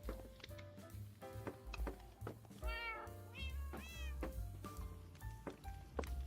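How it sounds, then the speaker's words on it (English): A house cat meows repeatedly, close and loud, its drawn-out calls mixed with several short yelps over a low background hum and household bumps. "Hey, kitty cat."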